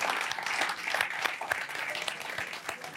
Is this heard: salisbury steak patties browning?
no